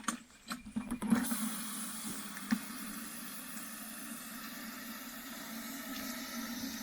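Sea salt being swished in a two-gallon jug of water: a short burst of sloshing and knocks is followed by a steady, soft watery hiss.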